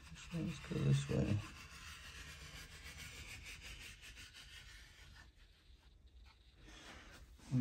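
Scraping across a surface in an axolotl aquarium, a steady rasping rub that starts with a few louder strokes, then continues evenly at moderate level before fading, with a brief knock at the end.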